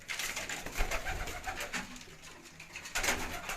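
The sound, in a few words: pigeon cooing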